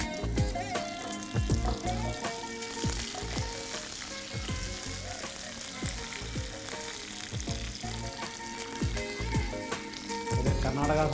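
Dried red chilies and curry leaves crackle and sizzle steadily in hot oil for a South Indian Awu Pachadi, a dense frying hiss with sharp pops throughout and some background music.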